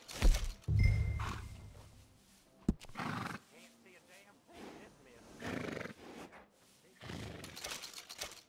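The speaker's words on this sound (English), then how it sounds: "And a fine new horse." Horse neighing and snorting in Red Dead Redemption 2, with several loud whinnies and breathy snorts spread across the stretch, close by and separated by brief pauses.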